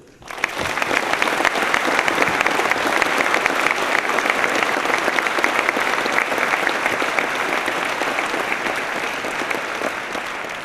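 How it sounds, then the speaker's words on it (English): A crowd at a 2nd Infantry Division command sergeant major change of responsibility and retirement ceremony breaks into loud, sustained applause after a brief quiet start, a thick even wash of clapping holding for about ten seconds. "Please join me in a round of applause as we welcome this great leader to the Warrior Division."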